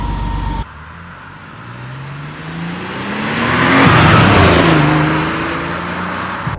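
A 1989 Porsche 911 Turbo Targa with a five-speed gearbox is driven, its engine climbing through the revs in a rising, swelling roar that peaks and then eases off, loud and close with no talk.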